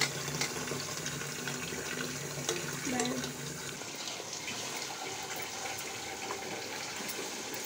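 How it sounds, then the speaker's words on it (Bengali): Tap water runs steadily into a kitchen sink while dirty utensils are rinsed, a continuous splashing hiss with a few clinks, fairly faint and unbroken throughout. "আর পাশ থেকে আন্টি যে জিনিসগুলা মানে ময়লা হয়েছে ওগুলা ধুয়ে দিচ্ছে।"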